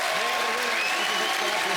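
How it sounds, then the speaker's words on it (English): Studio audience on a UK stopwatch-challenge game show applauding a losing team, a steady wash of clapping filling the whole stretch at moderate loudness, with a voice faintly audible beneath. "Round of applause for Joe's team, everyone."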